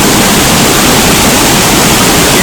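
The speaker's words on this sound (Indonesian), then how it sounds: "air terjun Uma Anyar atau Uma Anyar Waterfall yang berada di Gianyar" Uma Anyar waterfall at Kemenuh, Sukawati in Gianyar, Bali, pours as a steady, loud, dense roar of falling water that fills the whole moment without a break, with no voices present.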